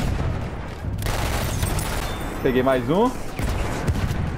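A Thompson Annihilator fired from the hip in Battlefield 1, rapid automatic bursts over a busy battlefield din that grow louder past the two-second mark, while someone talks briefly.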